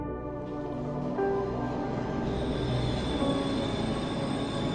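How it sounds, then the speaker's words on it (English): A train rumbles steadily through a scene in the horror video game Cry of Fear, with a continuous low roar and a thin, high metallic whine layered on top throughout. "Train."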